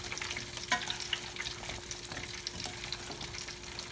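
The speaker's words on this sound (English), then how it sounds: "I'm gonna let those go ahead and fry for now" Fries deep-frying in hot oil give a dense, continuous sizzle with scattered sharp pops and crackles, close and steady, with no voices.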